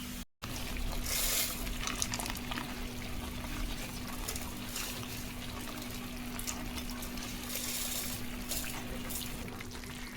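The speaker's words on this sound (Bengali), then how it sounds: "তারপরে এটাকে আমি নাল করে ভেজে নেব।" Garlic and fennel seeds frying in oil for a homemade pickle, a continuous even hiss with faint crackling bursts, close and steady throughout.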